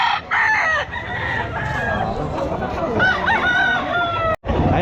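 A rooster crows loudly and close by several times amid a busy outdoor crowd at the Malolos pet market, with people talking throughout.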